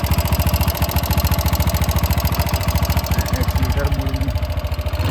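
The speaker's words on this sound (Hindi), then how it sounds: "स्टार्ट मारली मुई इंजिन रु केनटा गोटे साउंड आसुचे देखो" A motorcycle engine idles at a service centre with an abnormal noise, a loud rapid knocking pulse that stays steady and close throughout, with no voices over it.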